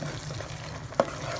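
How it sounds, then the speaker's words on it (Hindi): Chickpeas being stirred in hot ghee in a pan for gur ki panjeeri: a steady, close sizzle with one brief scrape of the spoon. "हिलाते रहेंगे और चने डालते रहेंगे"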